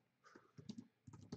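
A computer keyboard clacks quietly as a password is typed at a terminal, a few short bursts of key presses in quick uneven clusters, faint and close, with no talking.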